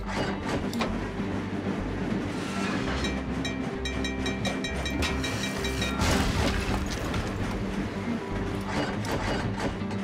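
Trains in the puzzle video game Train Crisis clatter and rumble steadily as game sound effects, with a busy mechanical click and whir that runs for the whole ten seconds and is loud and close.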